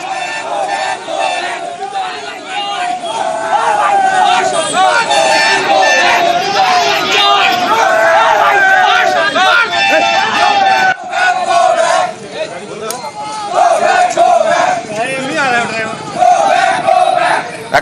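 A loud crowd of Trinamool Congress supporters chants go back slogans at MLA Nikhil Ranjan Dey outside a court in Cooch Behar, massed voices shouting in rhythmic unison, close and sustained throughout with no let-up.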